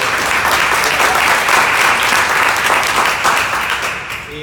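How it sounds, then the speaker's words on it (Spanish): Loud, dense applause from an audience at a Spanish-language mentoring event, steady clapping filling the room throughout and tapering slightly at the end. "un aplauso para ustedes."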